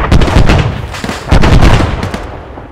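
Gunfire erupts in a firefight at an airfield: loud, close bursts of rapid shots in two main volleys, each fading into echoing rumble.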